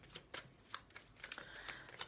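Oracle cards being shuffled for an autumn reading, a series of soft papery riffles and taps in an irregular rhythm, close and quiet with no speech.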